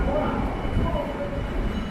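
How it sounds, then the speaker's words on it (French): Metro train passing on an overhead track in Taiwan; continuous loud rumble of rolling wheels heard from below, with faint squealing tones over it. "il y a un métro qui passe au-dessus"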